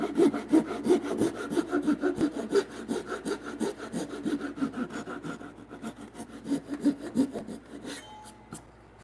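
A Japanese Ryoba pull saw cuts through timber for a timber frame bunk bed, with a fast, even rhythm of rasping strokes at close range, fairly quiet, pausing near the end.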